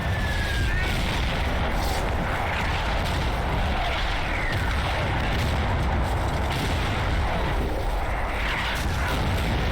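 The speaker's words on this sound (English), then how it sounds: "I redirect my on-map mortar fire to support my right flank." Mortar fire in the war game Combat Mission Fortress Italy, a dense, continuous roar of booms and rumbling blasts that stays loud and constant throughout, with no clear separation between individual shots.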